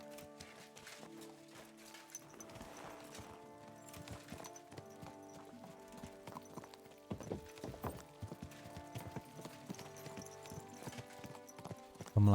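Horse hooves clip-clop steadily while riding in the medieval video game Kingdom Come: Deliverance II, a continuous moderate gallop rhythm over ambient game music and sounds, with a brief whinny-like burst near the end.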